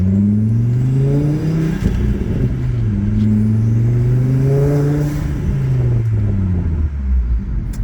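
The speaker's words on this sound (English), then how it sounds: "Now listen to this. Just engine sounds." A Volvo V70R engine idles and gently revs up and down after alternator and tensioner replacement, a steady close rumble with rising and falling pitch, no voices.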